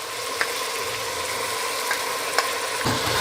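Tomatoes, crushed garlic and onion stirred while frying in a pan, cooked together for rabbit: a steady sizzle runs throughout, with a few soft scrape clicks from the spoon.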